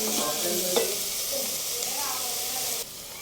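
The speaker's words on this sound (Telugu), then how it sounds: "ఆల్రెడీ అల్లం వెల్లుల్లి పేస్ట్ వేసాను. బాగా వేగాలి." Onions frying with ginger garlic paste in a pan, giving a steady close sizzle and hiss with occasional stirring scrapes, heard alone without talk.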